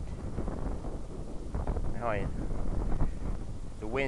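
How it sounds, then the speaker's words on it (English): Strong wind gusting into an outdoor microphone, a constant low rumbling roar with buffeting bursts, as people talk briefly over it. "The wind here, man. We did not expect."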